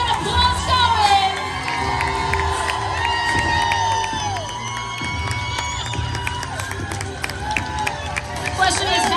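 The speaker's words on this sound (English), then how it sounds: "Come on, keep that applause going." A fan-convention crowd in Los Angeles cheers, whoops and claps for an actress taking the stage, a loud, continuous roar with shouts rising above it throughout.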